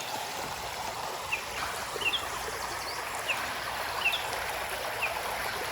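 A river runs over rocks in a steady, close wash of rushing and trickling water, with a few faint high bird chirps rising above the flow; no voices.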